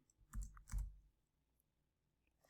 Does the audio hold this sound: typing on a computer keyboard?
yes